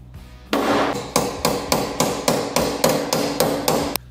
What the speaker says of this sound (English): take a hammer and see if we can't get it to move